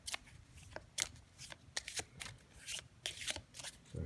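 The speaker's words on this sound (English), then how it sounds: "So shuffling the cards, and I'm going to take out 7." Playing cards being shuffled by hand, a series of crisp riffling bursts and slaps close to the microphone over about four seconds, with no talking.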